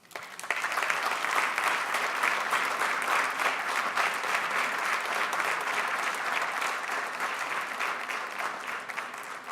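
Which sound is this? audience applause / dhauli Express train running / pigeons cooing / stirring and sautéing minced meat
audience applause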